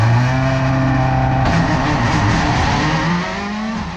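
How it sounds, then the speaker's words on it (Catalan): Subaru Impreza World Rally Car engine heard from onboard during a hillclimb race, loud and steady with strong harmonic drone, shifting pitch through revs and a gear change midway, no voices. "Som ara a l'interior del Subaru Impreza World Rally Car de Gerard de la Casa"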